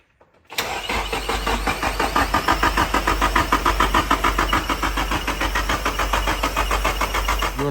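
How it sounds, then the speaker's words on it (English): A Nissan 240SX with a swapped SR20 engine being cranked over by its starter, a steady loud rhythmic churning that runs on and on without catching. "I'm gonna crank it a bunch before running the fuel pump."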